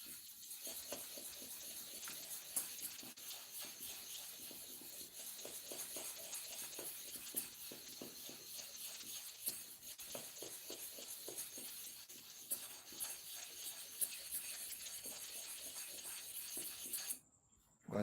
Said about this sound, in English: So I'm using the biscuit bone or the catalyst to spread the oil at the same time to scrub.